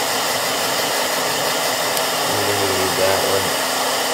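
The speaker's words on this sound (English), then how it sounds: "Blow dry your paint so it dries quicker." A hair dryer blows steadily and loudly up close, drying paint on a custom wrestling figure, with a brief low voice murmuring underneath.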